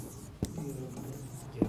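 A pen writes on a board in a classroom lecture, with two sharp taps or strokes standing out over a steady low room hum and faint scratching in between.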